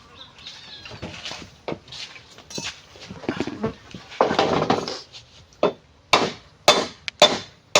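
A machete strikes bamboo again and again in sharp, irregular chops, some loud and crisp, with scraping and rustling between hits.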